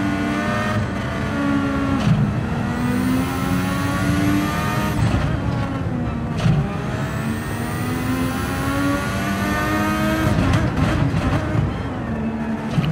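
Multiclass F1-style racing cars roar continuously through a Gran Turismo 7 race at Laguna Seca, engines climbing in pitch through the gears with repeated whining upshifts as several cars run close together; no talk is heard.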